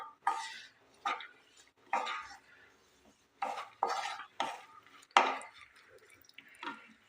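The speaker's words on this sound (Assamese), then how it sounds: "অলপ এইদৰে ভাজি লৈছোঁ।" Almonds and cashews are stirred briefly in a pan while making pitha, giving a series of short scraping clatters of a spoon against the pan with quiet pauses between strokes.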